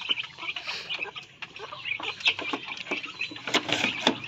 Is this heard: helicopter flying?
no